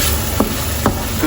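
A spoon stirs ground beef and farfalle with herbs in a pan over medium heat, scraping three times over a steady background sizzle.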